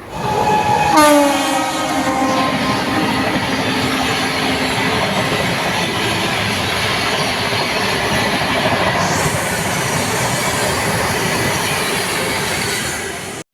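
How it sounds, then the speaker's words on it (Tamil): The Kovai Express arriving at Ambur railway station: its horn blares loudly, then a long steady rumble of rolling coaches and wheels continues close by, with a faint squeal later. "நம்ம கோவை எக்ஸ்பிரஸ் வந்து ஆம்பூர் ரயில் நிலையத்துக்கு வந்துருச்சு"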